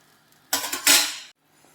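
A spoon scrapes and sloshes once through a pot of green gram curry being brought to a boil, a close, brief stir of under a second between quiet moments, with no talk.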